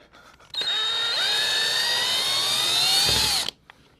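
Power drill driving a screw into wood in a home studio, one loud continuous whir of about three seconds, its motor pitch rising and then dipping as the screw seats, with no voices.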